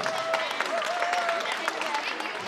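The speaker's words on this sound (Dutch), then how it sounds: "Eenmaal een groot applaus voor Vogelenzang Zuid." Lively applause for the Vogelenzang Zuid team at a sports prize ceremony in a sports hall, many hands clapping in a dense patter with a voice speaking over it.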